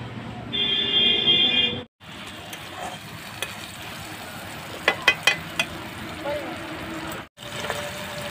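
Malabar spinach seeds frying in a pan, a steady soft sizzle with a few sharp pops and brief gaps, heard close up without talk.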